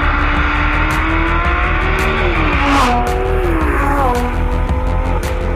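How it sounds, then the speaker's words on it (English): Lamborghini Gallardo with the e-gear semi-automatic gearbox accelerating hard, loud close engine roar rising in pitch, with quick upshifts briefly dropping the note before it climbs again. "The acceleration is relentless."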